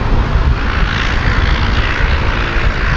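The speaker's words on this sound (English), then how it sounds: "That one's a pretty big plane, actually. It's probably like transport" A large propeller transport plane flying over remote northern Canada, a loud, continuous rumbling engine drone with dense low-end propeller roar, steady and close, no voices.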